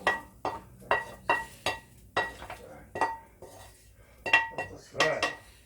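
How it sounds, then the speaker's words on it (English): Stew ingredients for a lamb shank stew being tipped into a pot, with a series of clattering scrapes and metallic clinks of utensils against cookware, close by and irregular. "we're going to take all these here and put that into the stew pot."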